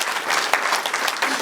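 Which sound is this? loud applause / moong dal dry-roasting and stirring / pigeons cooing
loud applause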